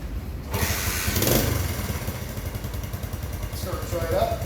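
A 1968 Honda CT90 motorcycle started at half choke catches and settles into a loud, close, steady idle putter, with a clattery mechanical burst near the start and brief talk partway through.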